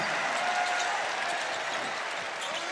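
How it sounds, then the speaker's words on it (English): College basketball arena crowd, North Carolina Central versus Virginia, roaring and applauding after a made shot, a dense, loud, sustained wash of cheering with no pauses. "Crowd's going to go nuts if he hits this"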